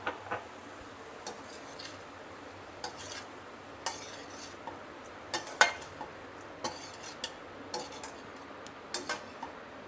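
A spoon scrapes and clinks against a pan while butter-tossed vegetables sprinkled with oregano and chili flakes are mixed, soft irregular taps over a faint background hiss.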